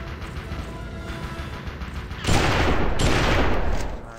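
Rifle fire in the western shooter GUN: two loud, close gunshot blasts about a second apart, each ringing out with a noisy tail after a quieter stretch of background ambience.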